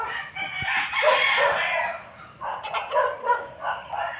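Chickens and roosters at a coop crow and cluck in overlapping calls, loud and close, with a dog barking faintly at times and no talk.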